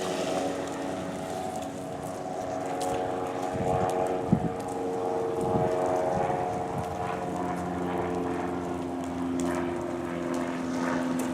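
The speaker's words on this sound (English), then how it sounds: "I have it on the fast speed right now, that's why it looks like it's taken off" A used Quantum 6000Z power wheelchair with heavy-duty motors and suspension, driven on its fast setting, gives a steady close motor whine with a few short bumps and knocks along the way.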